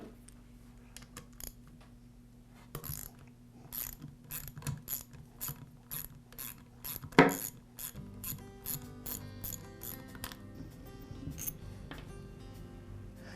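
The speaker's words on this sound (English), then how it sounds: "the next step is to remove the head bolts" Ratchet wrench loosening the head bolts on a Porter Cable air compressor pump, close rapid clicking in repeated short strokes with occasional metallic clinks, clear against a quiet background.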